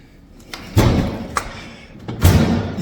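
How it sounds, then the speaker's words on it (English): A drawer is forcefully pulled out of a Samsung fridge, producing two heavy thuds with scraping between them and a sharp click in the middle, all close and loud. "you can pull out the drawer. Sometimes you got to be a little forceful with it"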